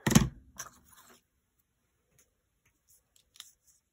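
Scissors trimming the edge of an acetate photo pocket page, a short cluster of crisp snips at the start followed by near silence and one faint later click.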